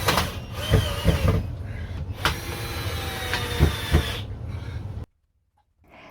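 A power drill whirs in several short bursts with mechanical rattling and clicks, fairly close, driving screws while installing an LED ceiling light, then cuts off into near silence at the end.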